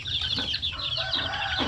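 Shamo Aseel hens clucking close by on a small farm, a few short repeated clucks over a steady background hum.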